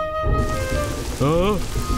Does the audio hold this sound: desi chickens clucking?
no